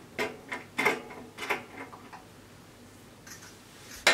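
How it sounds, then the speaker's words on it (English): Scissors cut through fabric for a kaftan dress in a few sharp, close snips separated by pauses, with a final crisp cut at the end. "So I'll go ahead and cut it out."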